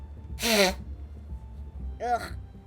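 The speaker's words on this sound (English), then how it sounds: "Even angels also need time to sneeze." Two sharp, breathy sneezes a moment apart, close and fairly loud, the second slightly softer, over a quiet room.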